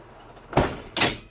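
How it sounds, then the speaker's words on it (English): Passenger door of a 2011 Ford E-350 van being operated like an old school bus door, two quick mechanical clunks about half a second apart, close and alone. "Here's how this door over here works, by the way. Kind of like an old school bus."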